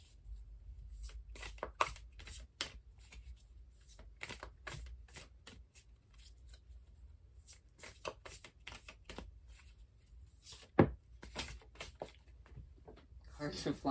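Tarot cards being shuffled by hand in quick, crisp riffling bursts, close and fairly quiet, with a voice talking between and over them.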